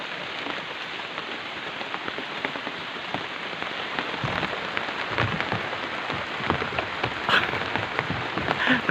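Steady rain pattering on banana leaves outdoors, a dense continuous patter with occasional heavier drops, close and moderately loud with no talking.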